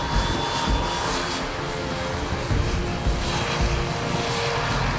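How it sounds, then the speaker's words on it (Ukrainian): A steady, loud gas turbine engine of a T-80 tank roars and whines continuously without pause, a dense mechanical drone with a high whistling edge and no voices. "Це газотурбінний двигун, який ну, переобладнаний під танк"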